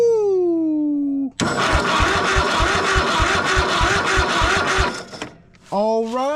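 A Craftsman riding mower engine cranks and catches, then runs with a loud, rough, rhythmic chug for several seconds before cutting out. Someone speaks before and after the run and whoops.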